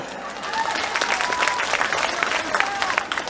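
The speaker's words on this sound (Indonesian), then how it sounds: "Tepuk tangan buat Banser." Audience applause at an Islamic sermon by a preacher, a dense, sustained clapping from a crowd, loud and close for several seconds with some murmur under it.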